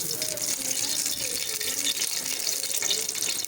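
Cooking oil, a full cup, pours into a cooking pot for kofta curry gravy, a steady close liquid rush lasting a few seconds with no talk over it.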